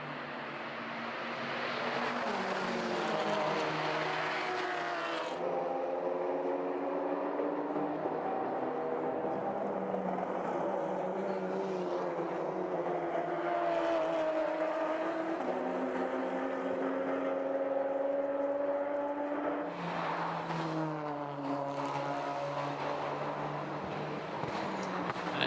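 Touring race cars, including a Volkswagen, racing on a circuit during a Baltic Touring Car Championship round, with loud, sustained engine drones rising and falling in pitch as the cars accelerate and shift gears.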